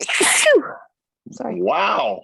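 One sharp, close sneeze bursts out at the start, followed after a short pause by a person speaking.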